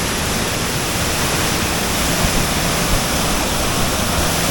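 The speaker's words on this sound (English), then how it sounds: "Look at the waterfall." Cane River Falls in Jamaica, a loud, steady roar of falling water, close and unbroken throughout.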